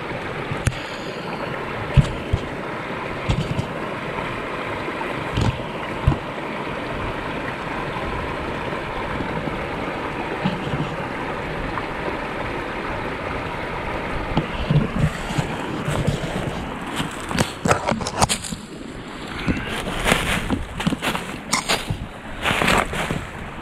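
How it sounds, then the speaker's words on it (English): Continuous rushing water from a small waterfall on a park hiking trail, a steady splashing flow like a small cascade, with occasional knocks and handling noises growing busier toward the end. "Kind of cute little waterfall there."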